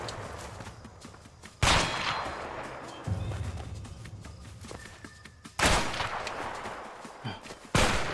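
Rapid gunfire in a video game comes in several sharp loud bursts amid quieter scattered shots and background game noise, with no voices.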